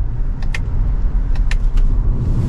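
A Lexus NX350 SUV drives along a road, its steady low rumble and tire roar continuous and close, with a few brief light clicks or jingles rising above it.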